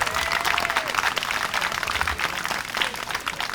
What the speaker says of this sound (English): So a round of applause to the whole Somerset Dolphins swim team.